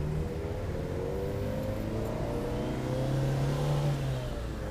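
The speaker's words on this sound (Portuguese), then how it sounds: "O carrinho tá penando aqui." A small car's engine labours at steady, mid-pitched drone while climbing a steep hill, continuous and close with no talk.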